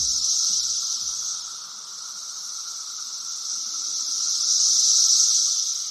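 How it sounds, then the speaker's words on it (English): Periodical Brood X cicadas in Northern Virginia drone in a steady high-pitched chorus that swells and eases, continuous and moderately loud, with a few faint low knocks early on. "The cicada sounds you just heard are a species from the group Brood X."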